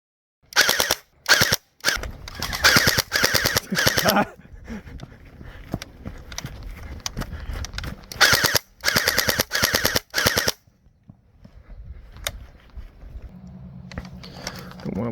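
A YAGEE DGR LEI gel blaster fires outdoors in rapid bursts of sharp snapping shots, several short volleys separated by pauses, with a quieter stretch of faint movement at the end.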